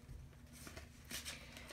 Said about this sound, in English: I'm going to shuffle a couple more times.